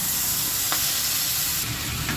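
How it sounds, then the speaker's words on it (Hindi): Marinated chicken fries in a pan over a low flame, giving a steady, close, dense sizzle with crackling spatter throughout and no voices. "चिकन जो है बहुत छींटे मार रहा है"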